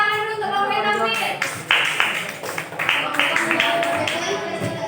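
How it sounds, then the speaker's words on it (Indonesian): Classroom students clapping for a group that just presented, a moderately loud round of hand claps mixed with voices talking over it. "beri tepuk tangan dulu untuk kelompok yang tampil"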